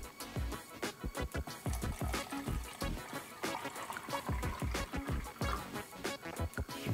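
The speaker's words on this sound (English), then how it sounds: "Add some water to our drink." Water poured into a mug over a tea bag for a drink from a Russian field ration kit, a close, steady trickling and splashing that runs for several seconds with no talk.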